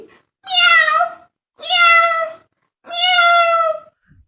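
A person imitates a cat with three drawn-out, tonal meows spaced about a second apart, loud and close, with nothing else heard between them.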